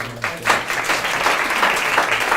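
Applause from an audience at an academic talk, dense steady clapping that swells after a brief start and continues evenly throughout.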